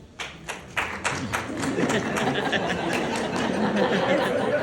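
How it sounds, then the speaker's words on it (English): A few scattered claps quickly swell into full audience applause, with some light laughter mixed into the steady clapping. "It's fine, you can clap."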